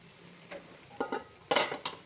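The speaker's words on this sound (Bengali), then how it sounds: "আমি এখানে সবজি রান্না করছি" Utensils scrape and clink against a metal kadai while mixed vegetables such as eggplant, taro, potato, bottle gourd and lentil dumplings cook, a few sharp knocks spaced unevenly over a quiet background, with a louder clatter near the end.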